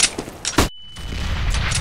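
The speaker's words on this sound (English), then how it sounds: "Flashbang." A flashbang grenade goes off in Counter-Strike: Global Offensive, a sharp loud burst followed by a thin high ringing tone and a muffled wash of game noise, with a few gunshot-like cracks just before.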